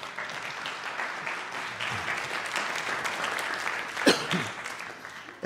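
Audience applause for a long-serving band teacher at a junior academy stage band concert, a steady wash of clapping from a crowd throughout, with a brief louder knock or thump near the end.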